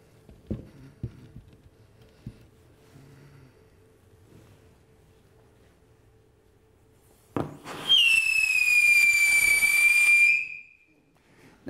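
A whistling firework made with potassium hydrogen terephthalate gives one loud, shrill whistle lasting about three seconds. It starts with a bang and a rising pitch and ends abruptly, after quiet background noise and scattered clicks.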